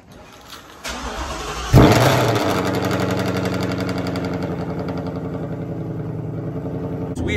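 A 2020 Shelby GT500 with a stick-shift swap cold-starts with a starter whir, then a sudden loud bark that settles into a steady, rumbling high idle, close and alone.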